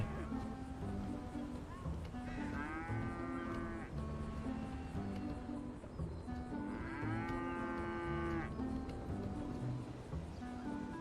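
Two long moos from a cow in the video game GTA 5 on a mod course crossing obstacles, each drawn out over about two seconds, with background game sounds and some talk around them.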